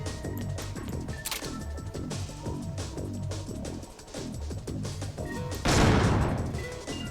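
Rapid gunfire in a video game crackles in quick repeated bursts over a rhythmic electronic backing, ending in a louder crashing burst of noise near the end.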